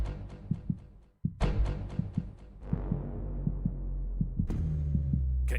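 A heartbeat sound effect, its low thumps coming in pairs and speeding up, then breaking into a rising, sustained rumble and whoosh at the close, loud and with no voices.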